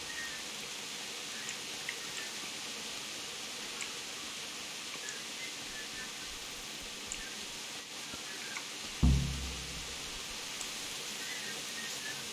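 Steady soft rain hisses evenly in Kingdom Come: Deliverance, a faint continuous wash with a low thump near the end, and no talking.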